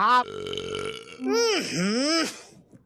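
Loud, exaggerated drawn-out burps from a character in a Hindi TV comedy sitcom, two long voiced belches in a row that rise and fall in pitch, close and prominent.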